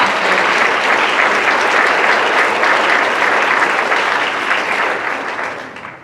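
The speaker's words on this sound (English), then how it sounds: "Let's give a big round of applause for everybody who made this possible." Sustained audience applause at a behavioral health conference, a dense, steady wash of many hands clapping that fades out near the end.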